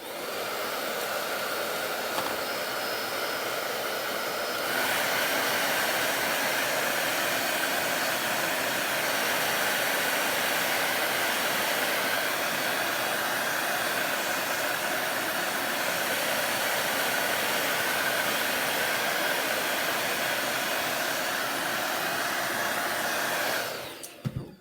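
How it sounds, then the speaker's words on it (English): A blow dryer runs steadily and close for the whole stretch, drying wet paint on a wooden clipboard, a continuous loud whooshing hiss that cuts off abruptly at the end, with no talking. "So I'm gonna dry that with the blow dryer"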